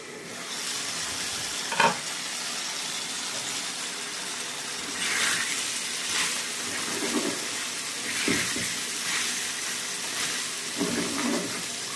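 Small potatoes fry in a pan with a continuous soft sizzle, broken by occasional stirring scrapes and clinks, close and moderately loud throughout.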